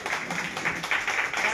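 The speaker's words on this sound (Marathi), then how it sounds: "सर्वांनी टाळ्या वाजवायच्या आहेत" Audience clapping at a birthday celebration for a farmers' organisation leader, a steady dense patter of many hands held at moderate loudness through the short stretch, with no voices over it.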